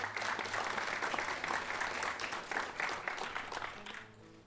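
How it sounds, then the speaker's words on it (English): A live studio audience gives a strong round of applause for the social media team, dense clapping that holds steady for about four seconds before fading as a voice begins speaking. "round of applause for our social media team"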